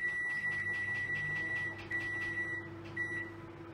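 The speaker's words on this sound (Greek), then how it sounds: "Η πατάτα στα μικροκύματα σε 6 λεπτάκια θα είναι έτοιμη" A microwave oven runs with a medium-to-large washed potato inside, skin left on, on a six-minute cook. A steady electric hum holds throughout, with a high whine and faint clicks over it, close by and fairly quiet.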